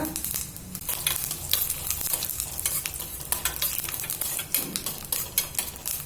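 Black peppercorns and cumin seeds dry-roasting in a pan, a dense run of quick scraping and rattling stirs over a faint sizzle, close and steady throughout, with no talk.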